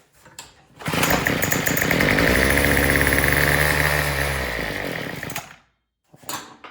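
A Troy-Bilt TB225 tiller's small engine fires up after a start attempt, running loud and buzzy for about four seconds before cutting out, with brief rattles on either side.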